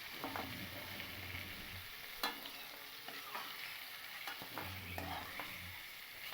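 Fried mixed vegetables with peas being stirred and lifted from a hot pan: a soft, continuous sizzle with scraping strokes and a few louder clinks of the utensil against the metal.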